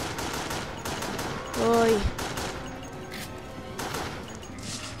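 Rapid gunshots in the horror rail shooter Resident Evil: The Darkside Chronicles, a steady run of sharp repeated shots with a brief louder burst partway through, a voice speaking briefly over the firing.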